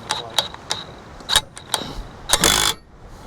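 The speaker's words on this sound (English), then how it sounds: "So let's take our impact gun here." An impact gun snugs the hardware on a weight distribution hitch for a travel trailer, with several short, sharp mechanical rattling bursts and then a longer, louder rattling burst near the end, close by.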